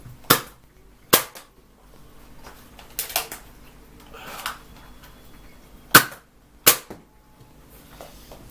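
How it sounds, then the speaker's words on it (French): A Nerf camo toy pistol fires six sharp snapping shots at uneven intervals, each a crisp broadband crack standing alone over a quiet room background. "c'est une bonne petite arme de poing"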